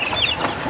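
Native hens and fighting cocks give a short burst of clucking close by, a few quick squawky notes against a faint outdoor background with no talk.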